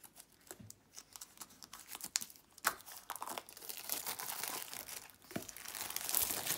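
An oracle card box set from Vega editions being opened, close crinkling and rustling of plastic wrap and cardboard with small tearing sounds and faint handling clicks, no speech.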